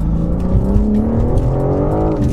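A stock BMW M4 accelerates hard from inside the cabin, its engine note rising smoothly and steadily in a loud, continuous pull, with no one speaking.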